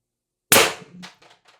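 A Beeman BP50 air pistol fires a 12.7 mm, 1.2 g solid nylon ball bearing on 800 PSI high-pressure air. It gives one sharp, loud, close crack, then a brief fading rattle with no talk.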